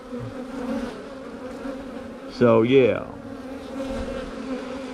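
Honey bees in a nuc hive of a healthy colony give off a steady, close buzzing hum throughout, with someone briefly speaking partway through.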